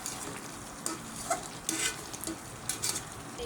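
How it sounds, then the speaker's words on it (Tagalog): Pot of Ilocos pakbet vegetable stew bubbling on the stove, a steady soft sizzling simmer with scattered small pops and bursts, close and moderately loud with no talk. "Yan, kumukulo na siya."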